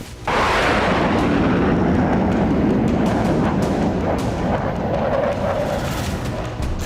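A heavy, rumbling blast of artillery fire that rolls on as a sustained roar, loud and close, slowly fading without any voices.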